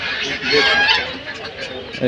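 Chickens and ducks at a busy poultry market give loud, close honking calls that rise and fall, with people talking nearby.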